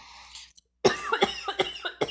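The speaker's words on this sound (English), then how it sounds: "when I turn my head to cough" A person coughs several times in a quick cluster, sharp close bursts after a brief faint sound and short silence, with no talking over them.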